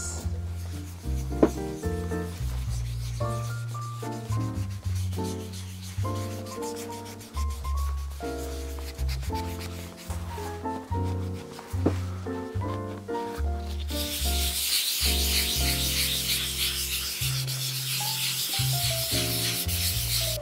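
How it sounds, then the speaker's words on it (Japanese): Colorless sole stain is rubbed by hand into the leather sole of a red shoe: soft, repeated close rubbing strokes over a continuous tonal musical background. "ここに無色のソールステインをまず塗り込みます。"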